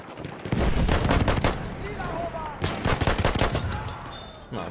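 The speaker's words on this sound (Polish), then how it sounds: "Cztery strzały, mniej więcej z bliskiej odległości wystarczają" Gunfire rattles in Battlefield 1 in rapid close bursts, loud cracks with rolling echoes and a brief lull between volleys, over a constant battlefield background.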